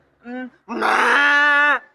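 A person imitates a buffalo, giving a short low grunt and then a longer, droning, moaning bellow, loud and close.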